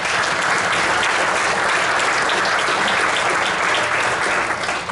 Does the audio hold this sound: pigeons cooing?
no